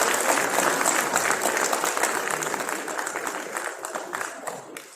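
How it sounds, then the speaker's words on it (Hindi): An audience at a National Youth Day gathering in Uttar Pradesh, addressed by a state minister, breaks into loud, dense clapping that holds strong for several seconds before thinning slightly toward the end. "मैं चाहूंगा एक बार जोरदार तालियों के साथ में यहां पर अपनी उपस्थिति सब लोग व्यक्त करें।"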